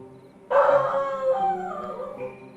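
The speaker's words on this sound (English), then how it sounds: "Emmy's barking at someone stomping the loud stomps" Emmy the dog lets out a loud, drawn-out howling bark from close by, starting abruptly and trailing into a wavering, fading howl.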